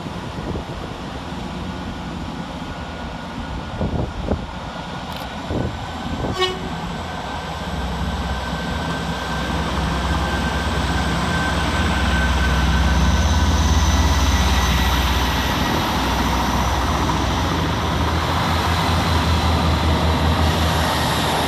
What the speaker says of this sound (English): departing in the opposite direction is 158769 and 158765, with the 1207 Great Western Railway service from Port of Harbour to Cardiff Central